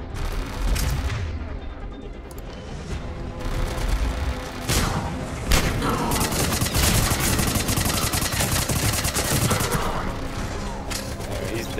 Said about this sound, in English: I think Tempest would be a little better for this, so a little more auto fire.